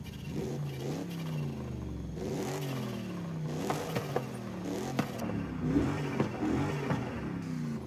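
A car engine in Forza Horizon 5, a wide-body smoke machine build, revs up and down repeatedly with rising and falling pitch, a mid-range growl and occasional clattering pops, heard up close without talk.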